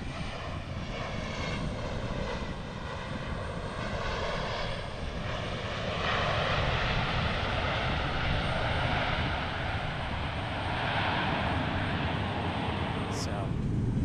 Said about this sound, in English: 737-900 here landing.